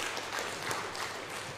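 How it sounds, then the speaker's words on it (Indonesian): A church congregation applauds during a worship service, a dense steady wash of clapping from many hands that holds at an even level throughout, fairly close and with no talk over it. "Tepuk tangan bagi Tuhan, bangkit berdiri."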